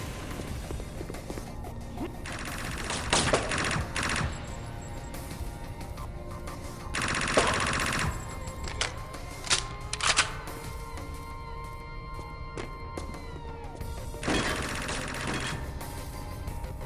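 Bursts of gunfire crackle through a firefight in the video game Chaser, coming in several loud volleys over a steady bed of game sound.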